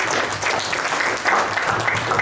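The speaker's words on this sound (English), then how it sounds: "Clap for them." Audience clapping for quiz finalists at a Constitution of India quiz in Goa, a brief, dense burst of close, loud applause, even throughout.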